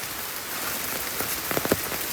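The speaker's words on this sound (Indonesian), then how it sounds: "ketika explore pasti hujan" Rain falls steadily while exploring Mount Salak near a river, a broad hiss of drops on surfaces with a few sharper nearby splats and drips toward the end.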